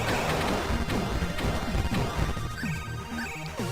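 Repeated smashing hits from a melee attack in the Mystik Belle video game, dense crunchy impacts landing in quick succession over busy game music and effects, loud and continuous.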